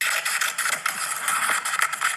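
Scissors cutting through construction paper, a close, crisp rasping scrape that runs continuously in short rhythmic strokes for about two seconds, heard alone without talk.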